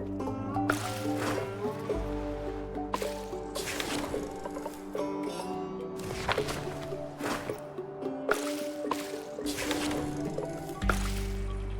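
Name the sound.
boiling water in the video game Flotsam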